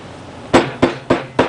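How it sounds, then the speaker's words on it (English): Four sharp, evenly spaced hammer taps ring out close and alone as a leather medieval shoe, freshly glued, is knocked into place. "Take my hammer."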